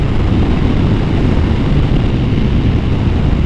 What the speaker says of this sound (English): This bike is so fun to ride.